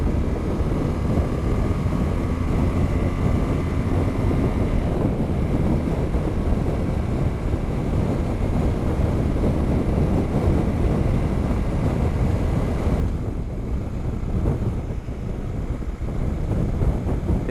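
Steady, loud wind roar buffets the microphone while riding a BMW GS motorcycle, a dense continuous rush with engine drone beneath that dips briefly near the end.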